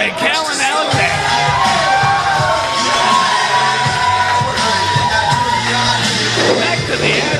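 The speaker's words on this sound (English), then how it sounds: "This crowd electric for Andre Cannon Alexander" A wrestling crowd roars and yells continuously at an indie wrestling show, a dense, loud wash of cheering and whoops with voices woven through throughout.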